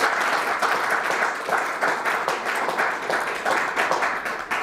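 Team members at an annual general meeting applaud continuously, a dense, steady round of clapping from a roomful of people.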